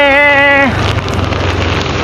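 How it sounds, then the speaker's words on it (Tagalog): A brief tonal sound fades into steady, loud hissing rain pattering on a surface, continuing to the end with no voices. "basang-basa sa ulan"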